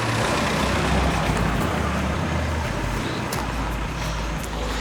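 Steady roadway traffic with heavy vehicles such as trucks and cars rolling through a single-lane entry point, a continuous low rumble of engines and tires at moderate distance with no pauses.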